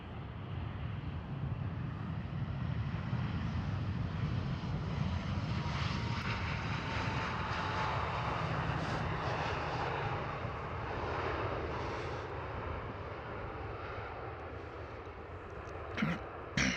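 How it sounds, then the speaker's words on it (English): An EasyJet Airbus A320 roars steadily at Amsterdam Schiphol airport, a loud continuous jet engine rumble and whine that holds throughout with little change. "Here is EasyJet Airbus A320."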